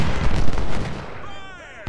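A deep booming cannon blast in the video game Ultimate General: Civil War rumbles and fades, followed by a sharp crack near the end, loud and close.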